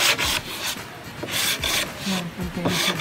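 Rhythmic rasping strokes of sandpaper rubbing back and forth across wood, close and steady, about three strokes per second.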